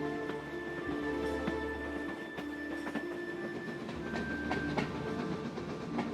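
A freight train with goods wagons rolls past with a continuous low rumble and irregular rhythmic clacks of wheels over rail joints, steady and moderately loud throughout.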